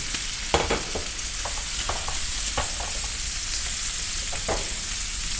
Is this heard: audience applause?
no